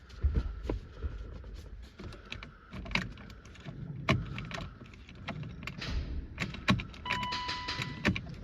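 Keys jangle and click at the ignition of a BMW E34 Touring, a scattering of sharp metallic taps and rattles that come and go, near and fairly quiet, with no speech.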